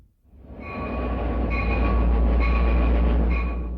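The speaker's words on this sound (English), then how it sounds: "Passenger trains are once again rolling through some of Canada's most breathtaking scenery." The Rocky Mountaineer passenger train rolling through the Canadian Rockies, a deep steady rumble that swells in within the first second and holds loud and near, with faint metallic squeals from the wheels above it.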